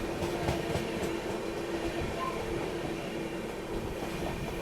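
The TVC Rajdhani express rolls past on the railway as a loud, steady roar of wheels and carriages, with a faint high squeal riding over the rumble.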